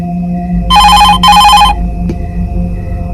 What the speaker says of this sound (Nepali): फोनको घन्टी बज्यो।